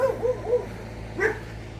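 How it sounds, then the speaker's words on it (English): Dogs barking and yipping near a neighbor's yard, a few short high yelps in a quick cluster, then a pause and one more bark, moderately loud over steady low background hum, with no talking. "we just got dogs that bark at me"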